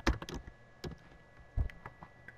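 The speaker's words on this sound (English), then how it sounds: "I'll also type here average." Faint typing on a computer keyboard: scattered clicky keystrokes come in small clusters with pauses between them, quiet and nearby with no talking.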